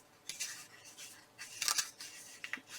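Paper rustles and creases in short bursts as it is folded into an origami star made from scrap paper, close and fairly quiet, with several crisp crinkling strokes and no talking.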